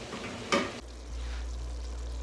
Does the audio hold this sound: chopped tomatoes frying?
yes